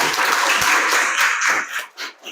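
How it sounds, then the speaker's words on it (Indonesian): Schoolchildren clap together in a classroom after a group is invited to present its digital poster, with a dense burst of applause that stays steady for about a second and a half and then thins out into a few scattered claps. "Beri tepuk tangan anak-anak untuk kelompok"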